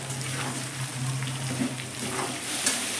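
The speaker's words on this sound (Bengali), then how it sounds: "নুনটা দেওয়ার সাথে সাথে আমি কিন্তু বেশ কিছুক্ষণ নেড়ে নিলাম" Carrot and radish pickle with salt sizzles steadily in a hot pan while being stirred, a continuous fry hiss with faint scraping, close and alone.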